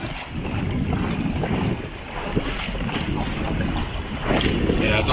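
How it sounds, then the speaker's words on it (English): A dinghy rides over the sea among rocky islands, with steady rushing wind and water noise buffeting the microphone throughout and a faint voice underneath. "We're doing a dinghy ride."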